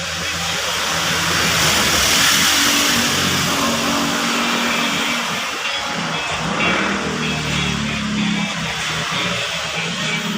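A sewing machine stitches the torn edge of a suitcase, giving a loud, continuous close motor whir that swells and eases slightly in speed throughout, with no talking.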